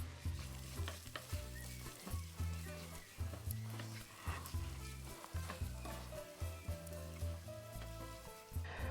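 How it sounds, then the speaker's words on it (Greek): A pan of food for Greek dolmadakia gialantzi filling sizzles steadily while a spoon stirs through it, with repeated scraping strokes over a constant frying hiss, close and fairly loud. "Ανακατεύω."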